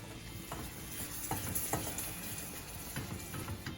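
Goetta fries in a pan while cream is slowly stirred in: a steady, close sizzle with soft scraping strokes of a utensil across the pan, and no talking.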